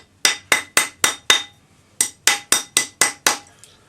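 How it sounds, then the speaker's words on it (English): A rawhide hammer strikes a metal ring seated on a ring mandrel in two quick bursts of evenly spaced blows, six then six, each a crisp close tap with a short metallic ring. "Put it on a ring mandrel and push it as far down with your fingers as you can go, and then take a rawhide hammer"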